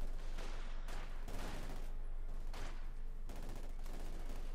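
G43 rifles fire in Company of Heroes 2, a rapid series of sharp cracking shots in uneven bursts, several overlapping volleys over a dense battle backdrop, with no voices.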